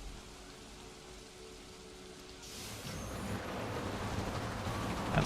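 Steady rain falls throughout a roller coaster ride in the video game Planet Coaster 2, growing noticeably louder and denser partway through as the hiss swells, with no talking.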